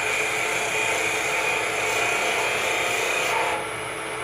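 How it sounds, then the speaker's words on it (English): A wood lathe spinning at 1800 rpm cuts a pen kit blank, giving a steady, close, continuous scraping whir from the turning tool that eases off slightly near the end. "Now I just brought the lathe up to 1800. That's a nice little cut right there."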